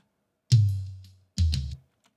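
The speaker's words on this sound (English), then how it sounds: "you'll hear what the toms sound like with the EQ" Two drum tom hits processed with EQ ring out one after another, each a deep, boomy thud with a sharp attack and a short decaying tail, alone and up close.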